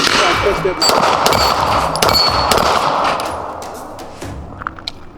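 Rapid bursts of gunfire from guns being shot, sharp cracks and metallic clangs densely packed for about three seconds, then thinning to a few scattered shots as the noise trails off.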